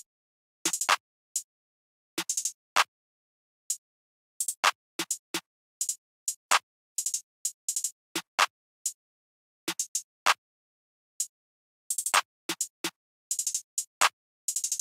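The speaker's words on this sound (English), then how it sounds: "I had this 808 snare from my stash kit again" An 808 snare sample from a stash drum kit runs through a busy rhythmic pattern of sharp, snappy hits, singles and rapid rolls, alone, close and dry.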